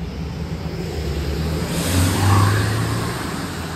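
A vehicle belching black smoke makes a fly-by, its engine swelling louder as it draws near and passes close, then easing off over a rough, steady background rumble.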